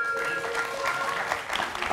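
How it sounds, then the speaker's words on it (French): A studio audience gives steady, dense applause for a Zouglou singer on a variety show, a short burst of clapping with a faint murmur of voices underneath. "Applaudissez pour notre Zouglouman."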